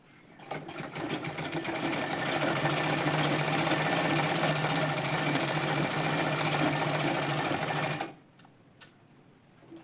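A sewing machine runs steadily for about eight seconds, stitching a seam along waste fabric for a scissors organizer, then stops abruptly, leaving a quiet room.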